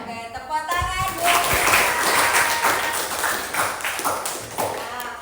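Classroom applause at an Indonesian vocational school, a group of students clapping in a steady burst with some louder taps, people talking over it.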